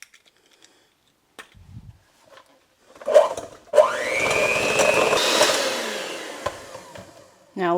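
An electric mixer beats eggs into rhubarb sour cream coffee cake batter, whirring loudly and steadily for about four seconds after a couple of short bursts, then stopping.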